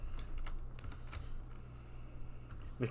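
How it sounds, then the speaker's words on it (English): Computer keyboard being typed on at a desk during a programming lecture, a run of light rapid key clicks with a few sharper taps, faint and close over a low steady room hum, no talk. "Because the tab key was stuck on my keyboard."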